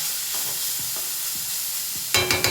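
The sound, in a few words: bitter gourd frying in an oil pan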